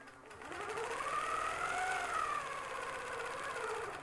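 A longarm quilting machine runs steadily as it stitches fabric along a ruler from a clamshell starter set, a continuous close mechanical whir with a rising and falling hum and no speech.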